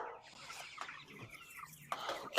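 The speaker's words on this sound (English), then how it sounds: "let's get these meat birds fed" Meat chickens in a chicken tractor cluck and squawk close by, with several overlapping calls through the short stretch and a louder burst near the end.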